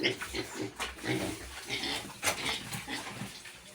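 Young pigs about a month and a half old, freshly bathed, grunting and squealing up close in short irregular bursts, with a low rumble running through the whole stretch.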